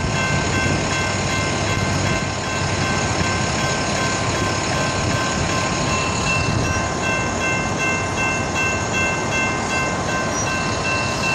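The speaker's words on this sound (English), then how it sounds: "Alright, so this is a TriRail train," TriRail passenger train rumbling steadily nearby, a continuous loud mechanical drone with tonal whine and hum running throughout, no voices.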